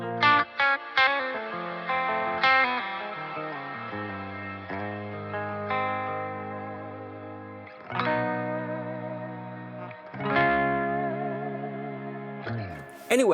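Guitar chords played through the Aurora DSP Kobraa amp plugin, a model of the Framus Cobra, with a shimmer effect: several struck chords ring out with heavy chorus-like sparkle and long reverberant tails, each decaying before the next hit.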